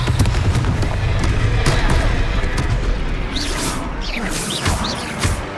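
Blasting fire spell cast in the Hogwarts Legacy video game, a dense burst of explosive crackle and whooshing magic over a low rumble, with whistling streaks near the end, loud and continuous.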